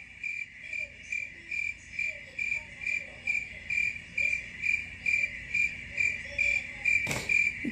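Cricket chirping in steady, rhythmic pulses, a continuous high trill repeating about twice per second throughout, fairly close and clear with faint background, and one brief sharp noise burst near the end.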